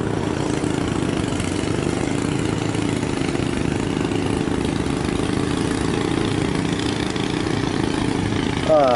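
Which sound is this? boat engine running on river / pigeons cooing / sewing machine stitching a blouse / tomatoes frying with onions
boat engine running on river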